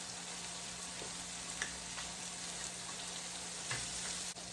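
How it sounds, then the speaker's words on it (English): Canned tomatoes simmer and sizzle softly in a pan, a steady faint bubbling hiss with a few light clicks, no talking. "So I want to simmer this for a few minutes."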